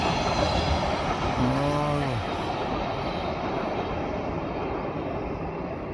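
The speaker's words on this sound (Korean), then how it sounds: "어, 기차요. 기차." Passing train on a railway near a river walkway at Danyang, a steady broad rumble throughout with a brief horn-like tonal call early on; people speak nearby.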